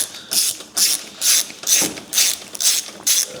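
Hand ratchet loosening stainless steel exhaust screws on a twin-turbo Audi R8, a series of about eight quick, close clicking bursts in steady rhythm with no talk.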